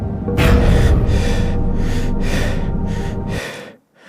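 Ragged, loud breathing with gasps and snorts from a character in a hospital horror audio drama, running in repeated bursts for over three seconds before cutting to a brief silence, with a music bed underneath.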